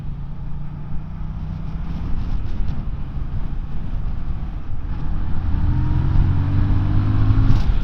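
A Voge R625 motorcycle engine drones steadily while riding, its pitch climbing as the revs rise toward the end, under constant wind roar on the microphone.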